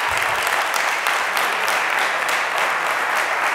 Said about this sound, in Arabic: ساعة تصفيقة كبيرة